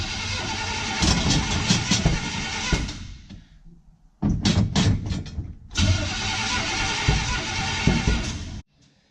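A 1955 Chevy truck engine cranks and fires in loud, close bursts, catches and stalls, then cranks again and runs rough before cutting off.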